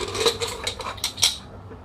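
A pressure cooker of cooked dal is opened after cooling, giving a short run of bright metallic clinks and clanks from the lid and pot, close and fairly loud.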